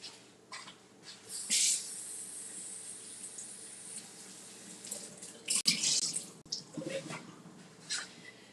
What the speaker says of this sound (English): I am going to rinse my strawberries